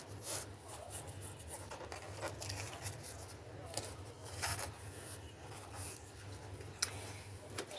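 Pinking shears snipping a paper label, a series of soft crunchy cuts and rubbing sounds, faint and close, with an irregular rhythm.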